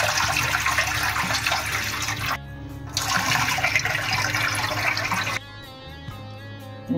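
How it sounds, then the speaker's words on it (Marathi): Fresh prawns are rinsed in clean running water, a loud continuous gush that stops briefly, resumes, then drops to quieter trickling and dripping. "कोळंबी धुवून घेते मी, स्वच्छ पाण्याने धुवून घेणार आहे।"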